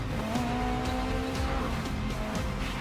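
A race car in GRID Legends, driven with a manual sequential transmission, revs hard with a buzzing engine while its tires squeal and skid in short bursts, loud and close throughout.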